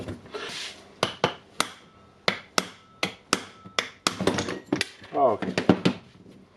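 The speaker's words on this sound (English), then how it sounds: "you can hammer it with the hammer" Sharp metallic-wooden hammer strikes ring out one after another at a steady pace, close by, as a new bearing is hammered into a Milwaukee brushless angle grinder, followed by a brief burst of quicker blows and a scrape.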